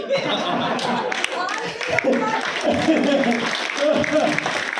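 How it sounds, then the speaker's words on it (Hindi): An audience clapping at a talk on success, scattered uneven applause mixed with chuckles, laughter and chatter, with people talking throughout. "विनोद जी प्लीज ताली बजा दीजिए"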